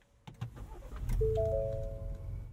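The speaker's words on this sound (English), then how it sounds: "I've got the key to that 22 Ford Expedition. Let's fire it up." A 2022 Ford Expedition with a twin-turbo V6 starts up: a few clicks, then the engine catches and settles into a steady low idle, with a faint rising whine on top, close by and with no talk.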